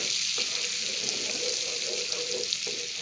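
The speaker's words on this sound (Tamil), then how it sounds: "பூண்டை சேர்த்து நம்ம நல்லா கிண்டி விட்டுடலாம்." Chopped garlic sizzles in hot butter as it is stirred, a steady close crackling fry with faint spoon scrapes running underneath throughout, no voices.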